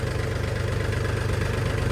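A tractor engine idles and runs steadily nearby with a low, even rumble and a slight knocking pulse, heard alone without speech.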